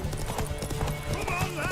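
A horse in The Witcher 3 game trots with rhythmic clip-clopping hooves and lets out a whinny, loud and close, under speech.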